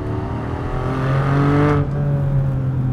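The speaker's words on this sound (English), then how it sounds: "but if you rev it out to that red line," A Porsche Cayman GTS 4.0 engine revs hard toward the red line, its loud, rising tone climbing steadily before cutting off sharply and settling into a lower, steady drone.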